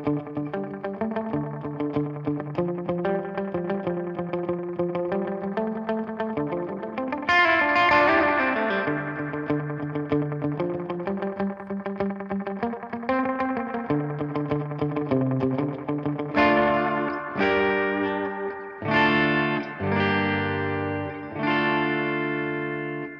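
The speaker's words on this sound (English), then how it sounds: "Let's go to the old tape sound on this one, the aged tape sound." Boss RE-202 Space Echo set to its aged tape sound, shimmering guitar chords with warbling wow and a chorus-like wobble, repeating echoes trailing behind each strum, steady and loud with no talk.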